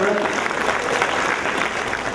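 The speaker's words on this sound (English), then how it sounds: "Let's put our hands together and big applause for Ryan and" Audience applause at a Chabad of Champaign toasting event, a steady dense wash of many hands clapping throughout, fairly loud and close with a roomy crowd feel.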